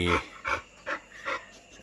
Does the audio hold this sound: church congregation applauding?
no